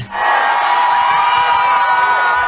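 About a hundred supporters in Oslo cheer and shout for María Corina Machado, a dense, loud, continuous ovation of voices close by.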